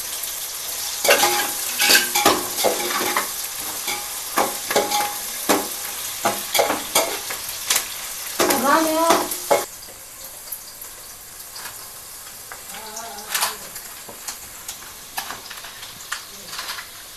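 Chopped bitter gourd pieces frying in oil in a pan while being stirred, with bursts of sizzling and scraping strokes that come in irregular clusters, loud at first and then quieter and sparser.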